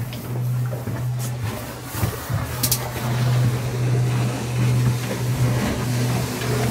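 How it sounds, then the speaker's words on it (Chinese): A fishing boat's engine runs on the open sea, a steady low drone holding loud and unbroken throughout, with light water and wind noise above it and a few brief knocks. "今天又要出来试这个发动机了啊！"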